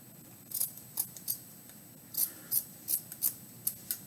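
Scissors snip through a sock, producing a string of sharp, close metallic cuts in irregular bursts over a quiet background.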